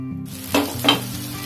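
Tomato masala with salt cooks in a pan for Bombay-duck curry, giving a steady close sizzle with two brief louder bursts of stirring or bubbling and no voices.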